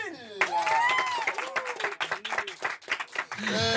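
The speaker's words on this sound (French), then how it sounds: "Merci d'applaudir notre nouvelle Miss France, Ève Gilles." Applause greets the new Miss France in a studio, a short burst of clapping from the audience that rises, breaks up into choppy claps and swells again, with a voice speaking over it.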